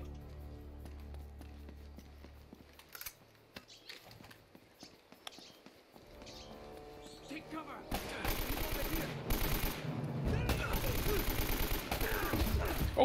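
Enemy gunfire in the Uncharted video game: bursts of rapid shots and crackling volleys, sparse at first and then dense and loud in the second half, with a voice talking underneath.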